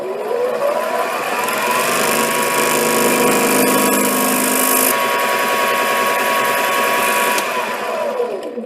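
A metal lathe fitted with a 4-jaw chuck takes a 20-thousandths cut, giving a loud, steady whine and hum that holds evenly throughout, heard close with no voices.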